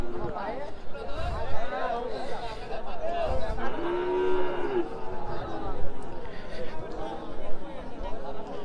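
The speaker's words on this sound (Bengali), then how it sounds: "এই পাশেও সবগুলোই হচ্ছে দেশি ষাঁড় গরু।" Native bulls at a busy Jamalpur cattle market give a drawn-out, mid-distance moo partway through, rising over the steady murmur of crowd chatter and livestock noise.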